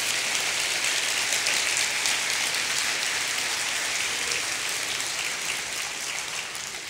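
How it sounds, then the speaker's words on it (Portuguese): A church congregation applauds during a Portuguese-language service, a dense, even roar of clapping that sounds almost like heavy rain, sustained throughout and easing slightly at the end. "Vamos aplaudir esse Espírito que habita em nós"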